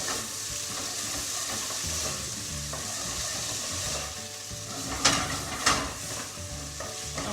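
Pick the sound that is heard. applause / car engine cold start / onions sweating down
onions sweating down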